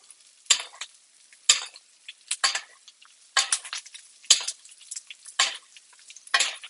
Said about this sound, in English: Just make sure the butter melts nicely. I'm going to butter bathe it